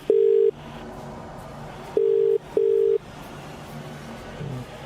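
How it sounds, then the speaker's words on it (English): Telephone ringback tone: three electronic beeps, one alone then two in close succession, clear and steady against a quiet background. "It's ringing."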